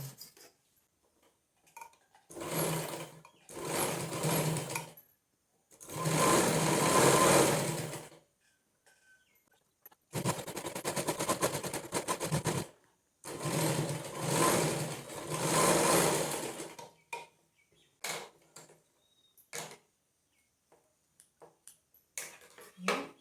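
A sewing machine stitches around the edges of a fabric envelope purse in several bursts of rapid mechanical whirring, separated by short pauses and small clicks, with no talk.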